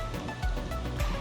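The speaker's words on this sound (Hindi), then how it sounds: "ये आप देखो फिर बारिश शुरू हो गई है।" Rain falling at Nizamsagar Dam near Hyderabad, a brief, steady wash of broadband hiss with soft low rumbles and no voices.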